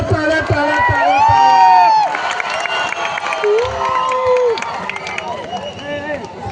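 Crowd at a kushti wrestling match in Solapur, Maharashtra, clapping and cheering loudly and continuously, with shouts and a prominent raised voice ringing over the din.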